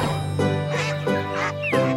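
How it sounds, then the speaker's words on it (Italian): A cartoon duck, a mother duck with her ducklings on a farm, quacks about four times in close succession, loud and nasal, with a steady musical tone underneath. "Mamma anatra con i suoi anatroccoli."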